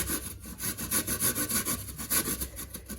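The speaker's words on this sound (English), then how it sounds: "I'm going to go ahead now and start grating the coconut" Fresh coconut is rubbed against a sharp hand grater for Jamaican grater cake, making close, rhythmic rasping strokes that repeat several times a second with a scratchy, woody texture.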